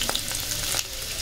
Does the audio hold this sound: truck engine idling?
no